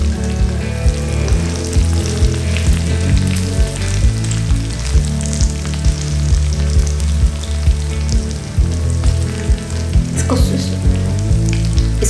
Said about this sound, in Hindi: तो चलिए इस साइड को भी हम फ्राई कर लेते हैं।